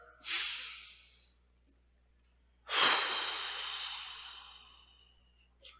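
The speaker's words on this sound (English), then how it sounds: "Take a deep breath." Two slow, deep breaths near the microphone, each a soft airy inhale or exhale that swells and fades, the second longer and drawn out, separated by quiet.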